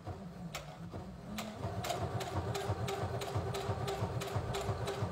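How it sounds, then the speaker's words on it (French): A sewing machine stitches thick bear-style slipper fabric, starting with a few slow stitches and then settling into a fast, steady, close mechanical chatter. "Et on vient coudre tout du long."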